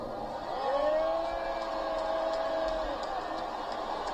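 A recorded crowd makes noise as a long whistle rises and holds over a murmuring din, with a voice talking over part of it.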